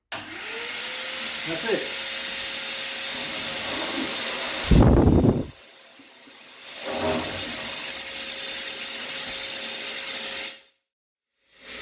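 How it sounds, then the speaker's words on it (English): A household vacuum cleaner runs with a steady high whine while its hose is pushed into a car's exhaust pipe during work on Mopar headers, briefly muffled and then stopping, with a short remark spoken over it. "shove your vacuum hose up your exhaust pipe and switch her on"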